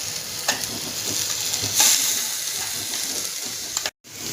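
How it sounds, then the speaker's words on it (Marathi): Raw mango (kairi) sautéing in a pan with freshly ground spice paste for kairi bhaat, a close, steady sizzle broken by repeated scraping stirs and a brief louder hiss, ending in an abrupt cut. "आता आपण यात वाटण जे आपण करून घेतलं होतं ते आपण आता यात टाकूया"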